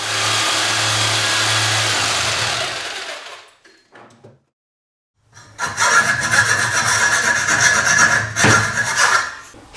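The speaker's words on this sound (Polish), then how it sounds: "wykonam cięcie, żeby wprowadzić potem klin, który umocuje nam sztywno trzonek w młotku" A hand saw cuts a slot in the end of a wooden hammer handle so a wooden wedge can later be driven in. Rough sawing strokes run for a few seconds, then stop in a pause, then resume in rapid, rasping strokes.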